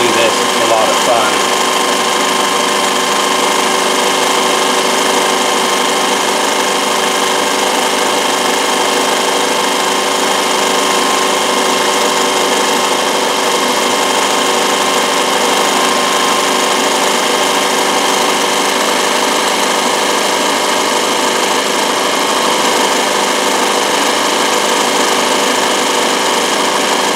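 A Consew CN2053R-1A industrial sewing machine running on a CSM1001 servo motor, doing slow zigzag stitching with a loud, constant mechanical whir and hum that holds steady and close throughout.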